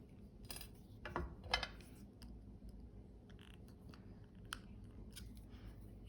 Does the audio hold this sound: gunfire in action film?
no